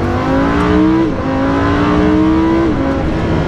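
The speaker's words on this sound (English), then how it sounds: "The shifts are just the second you click the paddle, you're upshifting or downshifting." A Lamborghini Huracan in Corsa mode accelerating hard, its loud engine note climbing steadily and dropping sharply at two quick paddle upshifts, heard from inside the car with no talk.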